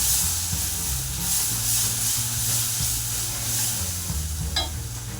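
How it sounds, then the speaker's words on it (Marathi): Tamarind pulp being stirred into a hot tempering mixture for tamarind rice, giving a steady close sizzle and frying hiss with soft scraping stir strokes throughout, no talking. "आता हा कोळ आपण या मिश्रणात घालून घेऊ आणि चांगलं"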